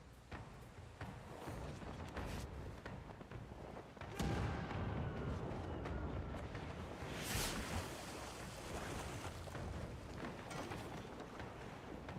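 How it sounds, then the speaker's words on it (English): Ship cannon fire in the Pillars of Eternity II: Deadfire naval battle: a heavy boom lands about four seconds in and another blast follows a few seconds later, both over a steady roar of ocean waves and wind. "Fire the aft cannon."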